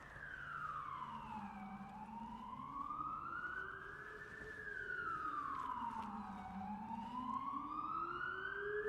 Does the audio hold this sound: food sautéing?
no